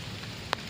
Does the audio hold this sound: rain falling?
yes